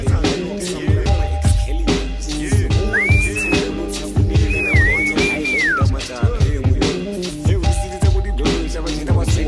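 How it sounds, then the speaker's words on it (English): A person whistles a short sliding melody over a loud rap freestyle beat with heavy bass thumps, the whistle phrases rising and dipping for a few seconds in the middle. "My boy out here whistling."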